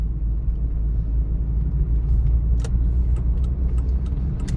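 A car drives and turns on a city street during a driving test, its engine and road rumble a steady low drone heard from inside the cabin, with faint clicks and small rattles near the end.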